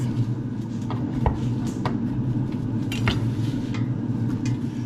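Garlic cloves sliced in half with a knife for homemade hot sauce, a series of light, sharp knife taps on a cutting board spread across the stretch, close and clear over a low kitchen hum.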